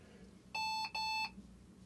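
A desktop computer fitted with a Trendnet TEG-10GECTX PCIe 10GbE adapter beeps while booting: two clear, steady electronic tones in quick succession, fairly loud against a quiet room hum.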